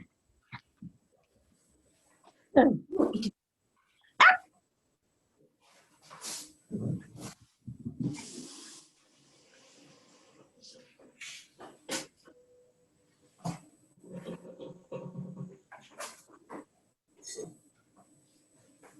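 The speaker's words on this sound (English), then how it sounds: "Can you hear the dogs? Can you hear the other dogs?" Dogs and a puppy make scattered short barks, yelps and whimpers in a quiet setting, some sharp and close, others soft and drawn out, with long gaps of silence.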